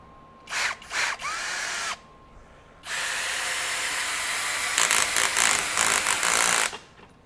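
A Masterforce 20V brushless compact 1/2-inch hammer drill driver in screw mode drives a screw in short bursts: two or three quick whirring pulses, a pause, then a longer sustained run with stuttering surges near the end, close and loud.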